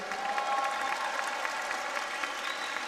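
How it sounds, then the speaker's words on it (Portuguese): A church congregation claps steadily throughout, a dense even wash of applause with no voices standing out. "Pode aplaudir com força isso."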